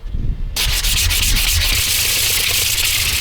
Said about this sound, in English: after sanding the neck, I have sprayed it with some clear lacquer